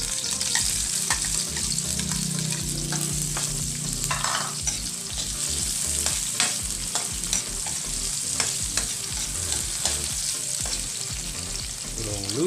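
Onion frying in hot oil and being stirred in a pan, a continuous loud sizzle broken by repeated scraping and clatter from the stirring, no voices.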